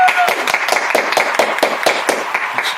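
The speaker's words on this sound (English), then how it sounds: "Let's give a round of applause for that." A studio audience at a podcast taping applauds a guest, a near, fairly loud patter of hand claps with some cheering that keeps an even rhythm throughout.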